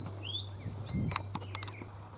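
Goldfinches twitter in quick, bright chirps and short trills, fairly close, over a quiet low hum outdoors by a hedge-lined road.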